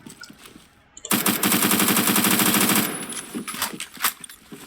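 Rapid automatic rifle fire in the first-person shooter Phantom Forces, a loud sustained burst of closely spaced shots lasting nearly two seconds, then a few scattered single shots and fading echoes.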